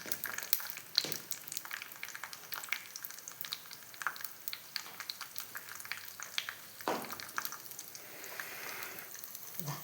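Cashew nuts frying in ghee give a steady, quiet sizzle and crackle, with occasional stirring scrapes and soft liquid pops throughout and no talk.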